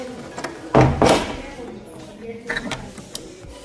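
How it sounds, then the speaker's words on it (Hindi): A house door creaks as it is swung shut, with a loud mechanical clatter near the start and a few softer knocks and clicks afterward, heard up close with faint household background. "दरवाजा कर देते हैं हम बंद"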